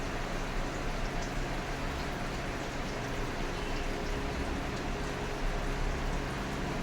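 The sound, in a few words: ghee boiling and foaming in a thick pot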